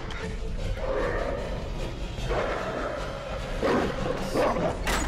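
In the horror video game Until Dawn, a dog barks and yips repeatedly amid a noisy game soundscape with low rumbles and thuds, the barks coming in uneven bursts at moderate loudness.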